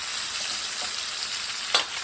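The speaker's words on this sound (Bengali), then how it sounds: "পটলগুলোকে আমি এখন ভালোভাবে ভেজে নেব।" Pieces of pointed gourd (potol) fry in oil in a pan with a dense, even, close sizzle, ending in a brief sharp clatter.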